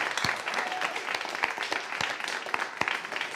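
An audience at a poetry slam gives the poets a round of applause, with individual sharp claps standing out from the crowd's steady clapping.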